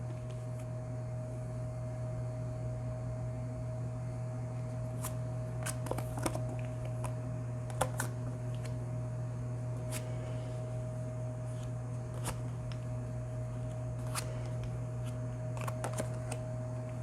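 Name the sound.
tarot cards being spread out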